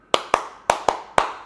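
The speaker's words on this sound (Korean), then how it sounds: "박수를 한번 쳐봅니다." Five sharp hand claps in an irregular rhythm, close and clear, with no other sound around them, made during a walkaround of the KGM Torres and Actyon.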